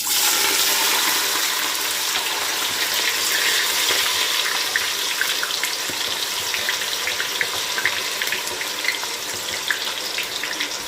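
Chopped onion hitting hot oil in a pan for a Cameroonian kondre, giving a steady, loud, hissing sizzle that runs the whole time with no talk over it.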